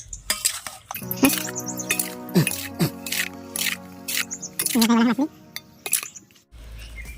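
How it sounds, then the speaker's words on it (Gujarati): Spices are stirred in a metal pot with a spoon, giving repeated scraping clinks and knocks in short bursts between spoken comments in a village kitchen. "બધા મસાલા નાખી દેતા મિક્સ કરી નાખીએ એને"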